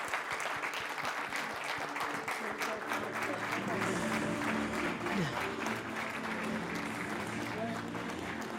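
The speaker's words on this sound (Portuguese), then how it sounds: "Uma salva de palmas para eles." Audience applause at an innovation and entrepreneurship award ceremony, a dense continuous wash of clapping from a crowd that holds steady throughout, with voices faintly underneath.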